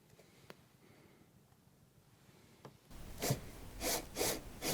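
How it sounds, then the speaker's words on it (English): A screw being driven into a pre-drilled hole, a few faint ticks over near-silence, then a loud close rasping grind in three or four strong pulses as it turns in. "And now I'm screwing it with the right head of screw."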